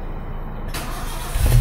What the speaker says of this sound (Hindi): तो अभी गाड़ी का ना मैं स्टार्ट कर देता हूँ